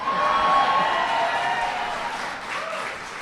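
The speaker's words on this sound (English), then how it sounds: "Did you see that standing ovation?" A large indoor audience claps and cheers in a standing ovation, a dense, loud wash of applause that fades slightly toward the end.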